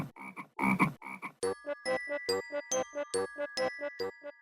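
Rhythmic, repeated frog croaks in quick succession, loud and close, with a bright tinkling tone layered over the later calls.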